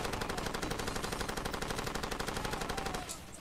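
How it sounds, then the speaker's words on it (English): Sustained automatic gunfire in the Far Cry 2 video game, a fast steady burst of loud shots that runs nearly the whole time, then cuts off near the end with no talk. "There is someone trying to shoot me."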